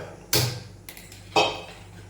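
A heavy uruli cooking pot is set down on a stove, giving two distinct metallic clunks about a second apart, close and fairly loud, with no talk.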